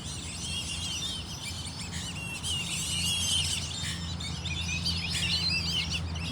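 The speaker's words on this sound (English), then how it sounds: "Here come all those noisy birds again." Dense flocks of small birds chirp and squeal outdoors at a big cat rescue in the morning, a busy overlapping chorus of high tweets continuing steadily over soft ambient hum without speech.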